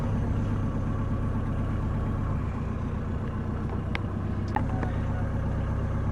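Diesel engine of a Hanse 505 sailing yacht running at a steady idle: a continuous low rumble with a few brief clicks partway through, no speech.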